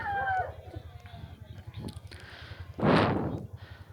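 A stray wild junglefowl rooster wandering among backyard hens at night gives one loud, close crow near the end, while softer clucks and short calls from the hens come before it.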